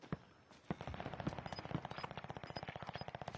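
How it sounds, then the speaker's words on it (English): Automatic gunfire in a shooter game on the Caldara map, heard first as a few separate shots and then as a rapid, even burst of rattling reports, moderately quiet and with no talk over it. "People are shooting to the right."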